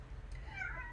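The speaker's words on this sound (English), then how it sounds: "that is my cat in the background." A brief, soft meow from a cat somewhere in the background, faint against low room noise.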